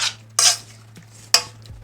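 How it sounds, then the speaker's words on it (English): Shawarma meat tossed with spices, two quick scraping stirs of a utensil against a pan, each a short bright rasp, close and clear over a low steady hum. "Give it a quick stir."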